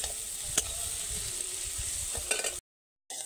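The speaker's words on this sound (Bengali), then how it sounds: "আবারও পেঁয়াজটাকে ভেজে নেব" Onions fry in a pan with a steady close sizzle and the scrape of stirring, a few louder crackles, then a brief break before the sizzling resumes.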